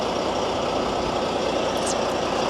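A new Australian-built Kenworth K220 truck with a 620-horsepower X15 Cummins engine idling nearby, a loud, steady, dense rumble with no change in pitch.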